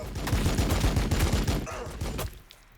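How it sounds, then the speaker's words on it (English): Heavy bolter fire in a Warhammer 40,000 game, with rapid booming shots in a steady stream for about two seconds, then cutting off abruptly into quiet. "So heavy bolter, let's light up the inceptors."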